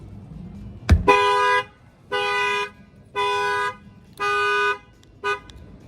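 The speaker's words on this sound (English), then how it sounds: "Go ahead and bang on this tire here. Should fire off the alarm." A 2020 Ram 1500 factory car alarm honks in four long, steady blasts with short gaps, then a brief fifth toot, loud and close, after a thump on a tire at the start.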